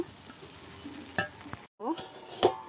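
Pulao in a pot being stirred after sugar and salt go in, a soft scraping stir with a few sharper clinks of the spoon against the pot, close and fairly quiet, with a brief silent gap midway.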